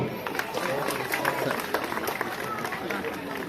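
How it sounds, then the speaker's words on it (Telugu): Loud, dense applause from a crowd at a government ceremony in a village hall or grounds during the Viksit Bharat Sankalp Yatra lamp-lighting, sustained and steady throughout with some chatter mixed in. "గట్టిగా చప్పట్లు"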